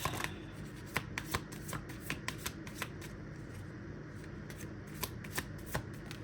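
A deck of playing cards is shuffled repeatedly, producing a rapid series of crisp riffling bursts and snaps at close range, fairly quiet against a low steady background with no talking.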